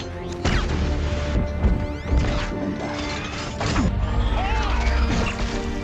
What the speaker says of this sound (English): The arm is transformed into an energy gun, Optimus Prime's weapon